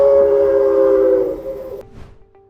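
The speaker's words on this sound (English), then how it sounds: "These Lunkenheimer whistles were made to be used with steam or compressed air." A Lunkenheimer whistle blown with compressed air gives a loud, steady tonal blast for over a second, then cuts off, leaving a short fading tail.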